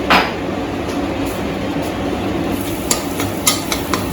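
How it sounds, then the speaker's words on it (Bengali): Scrambled egg seasoned with salt and pepper fries for fried rice, a close low rumbling sizzle with scraping stirs and a few utensil clicks toward the end. "এবার ভুজিয়াটা রেড রেড করে ভাজবো"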